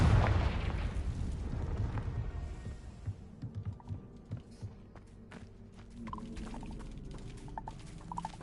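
A Confringo blasting spell bursts loudly in Hogwarts Legacy, a heavy boom that fades into rumbling debris, followed by scattered clicks and small impacts.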